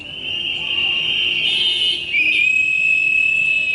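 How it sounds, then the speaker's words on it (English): A shrill whistle blows continuously in the background, holding one piercing pitch before a second sharper blast takes over partway through, fairly loud and without talk. "the whistles you hear in the background a lot"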